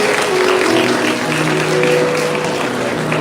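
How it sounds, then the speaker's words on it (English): Steady applause from a crowd at a school Independence Day celebration, continuous and fairly loud for the whole stretch, with a faint tonal hum running underneath. "may we have a huge round of applause for our today's chief guest"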